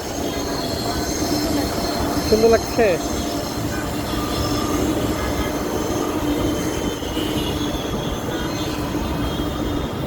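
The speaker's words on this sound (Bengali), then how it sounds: "এই যে মেট্রো যাচ্ছে" A metro train rumbles past close by at Farmgate metro station in Dhaka, with steady wheel noise and faint squeals, while a person briefly speaks over it.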